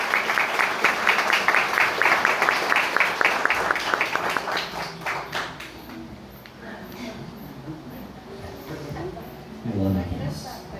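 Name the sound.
applause at a wedding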